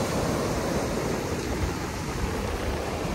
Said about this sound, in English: I'm gonna miss the sound of this ocean.